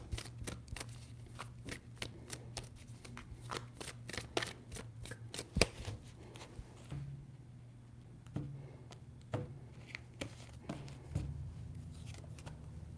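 Tarot cards are shuffled in a run of quick crisp riffles and slaps, close and fairly quiet, with brief pauses between bursts.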